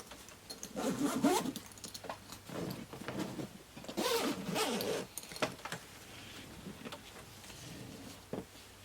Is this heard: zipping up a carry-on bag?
yes